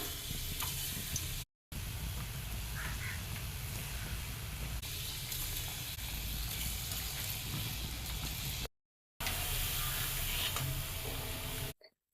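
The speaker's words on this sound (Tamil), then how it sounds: "எண்ணெய் காஞ்சிருச்சு. நீ இந்த பாலெல்லாம் உள்ள தூக்கி போடலாம்." Rice flour and sesame balls fry in hot oil with a steady, even sizzle and bubbling hiss that runs throughout, broken by two short silent gaps.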